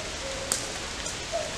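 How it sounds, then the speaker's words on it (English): Rain falls outdoors on a windy hillside during a short hike, a steady soft patter with a few brief louder drips close by. "Now time to get out of the rain and out of the wind."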